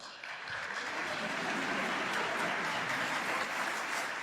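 Studio audience applause at a televised courtroom-style interview show, a dense, steady wash of clapping that swells in quickly and holds loud and unbroken throughout.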